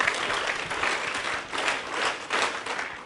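An audience applauds steadily, many hands clapping together in a dense, even roar that fills the room without pause.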